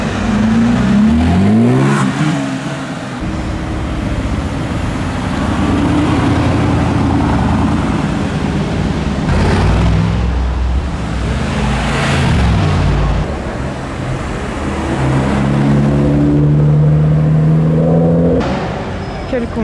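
An Audi RS3 in Nardo grey with Martini livery stickers, at the Zoute Grand Prix, drives past with its engine revving loudly and rising in pitch, close by, while a person talks over the engine noise.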